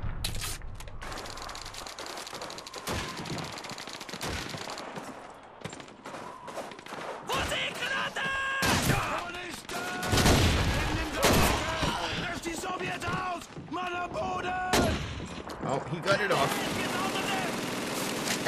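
MG-42 machine gun fire in the World War II shooter Call of Duty 2, with repeated bursts and scattered shots amid battlefield noise, while someone talks over parts of it.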